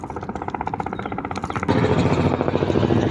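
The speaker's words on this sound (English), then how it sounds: "I'm sure you can hear the helicopters." Helicopters flying near a helipad beside the railway line at Victoria Falls, a steady pulsing rotor chatter that swells abruptly louder halfway through as one passes close.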